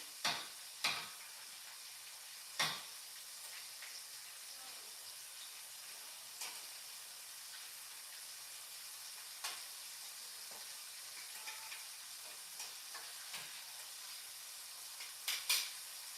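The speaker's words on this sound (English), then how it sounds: "Let them fry up another little bit." Shrimp fry in a pan with a soft, steady sizzling hiss, punctuated by sharp pops and crackles at irregular intervals, faint and close, with no voices.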